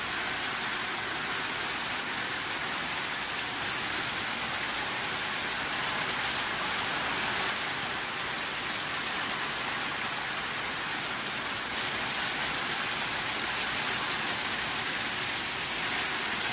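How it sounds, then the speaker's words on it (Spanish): Heavy rain from a thunderstorm in El Salvador pours down steadily, a dense, even hiss that continues without a break throughout. "Ahí les mando un poquito de lluvia para los que quieran."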